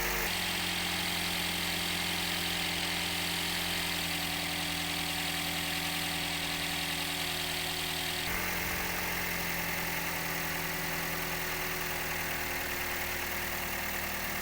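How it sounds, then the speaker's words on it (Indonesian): A Toyota Vios engine running on BP Ultimate fuel idles steadily with a constant low hum and mechanical whir, unchanging throughout apart from a slight shift partway through. "kita akan dengarkan suara mesin dengan brand X ini"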